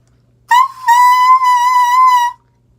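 A saxophone mouthpiece blown on its own gives a bright, whistle-like tone, one sustained note just under two seconds long with a short break near the start, loud and close with no talk.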